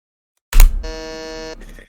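A quiz game buzzer sounds once, loud and close: a sharp onset followed by a steady harsh electronic tone lasting about a second, then a soft tail.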